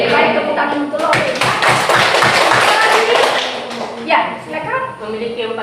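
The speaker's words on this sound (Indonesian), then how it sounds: "tepuk tangan untuk lo" A classroom group claps briefly for a student's answer in a maths lesson, a few seconds of uneven, close clapping with a teacher's and students' voices around it.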